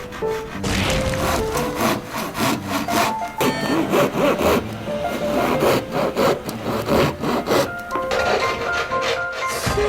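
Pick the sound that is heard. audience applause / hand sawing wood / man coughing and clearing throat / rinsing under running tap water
hand sawing wood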